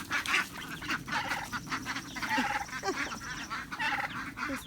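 A busy flock of fowl honking and quacking, with overlapping calls throughout and steady outdoor background noise.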